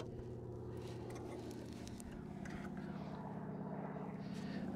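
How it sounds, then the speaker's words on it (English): A float plane drones overhead above a garden with a steady, low engine hum that holds throughout and grows slightly louder toward the end. "Float plane flying overhead."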